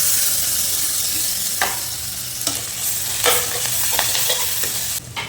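Onions and green chilies fry in a pan for chicken gravy, a continuous sizzle broken by several sharp scraping stirs of a spoon against the pan.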